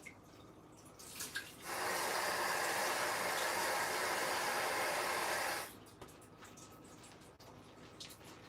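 Water pours steadily into a cooking pot of vegetable sauce for a paleo breakfast tostada, a loud, even rush lasting about four seconds, then it stops and only faint kitchen clatter remains.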